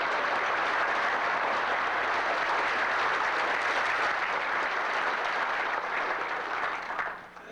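An audience claps at a historical gathering welcoming a historian and author, sustained, even applause from many hands that holds steady for several seconds and then tapers off at the end.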